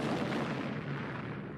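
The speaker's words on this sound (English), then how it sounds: "It exploded." An enormous cannon blows apart in a deep, loud, rolling explosion that rumbles on without a break and slowly fades, with no voices over it.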